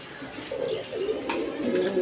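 A pigeon kept for sale coos in a short series of soft, low, warbling notes, close by, with faint background noise.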